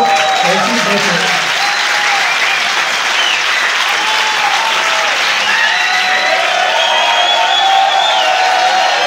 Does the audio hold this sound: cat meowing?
no